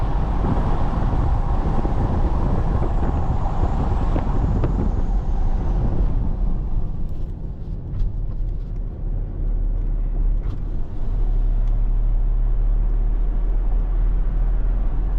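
A Toyota Hilux GR Sport double-cab turbo diesel pickup accelerates hard, heard from inside as a loud, steady engine and road roar with wind noise that eases off partway through, with no talking.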